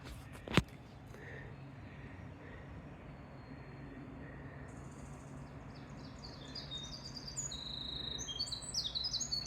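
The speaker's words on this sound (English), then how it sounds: "Winter wren? That's what it says. Beautiful. She's singing us a song." A winter wren sings from trail woods in the Appalachians, a rapid tumbling series of high bright trills and chirps rising out of a steady rushing background, growing busier toward the end after one sharp knock at the start.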